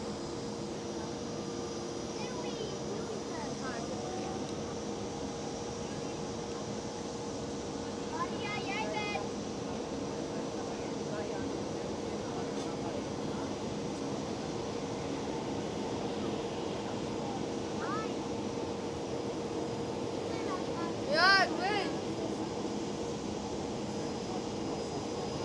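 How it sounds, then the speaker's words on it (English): An Emirates Boeing 777 airliner on runway 18L at Schiphol, a sustained distant jet engine roar with a steady tonal whine holding for the whole stretch, under occasional talk. "Next one up on the runway, runway 18 left is Emirates"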